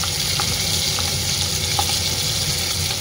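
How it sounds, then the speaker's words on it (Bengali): Pomfret fish frying in a pan gives a steady, close crackling sizzle with faint pops and a low kitchen hum beneath, continuous throughout with no talking. "আগে পমফ্রেট মাছগুলো আগে ভেজে নিই"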